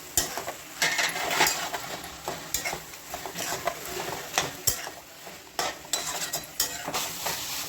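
Roasted brinjal bharit with green chili is stirred and sautéed in a pan: a soft sizzle runs under repeated close scrapes and clinks of a spoon against metal, with no talking.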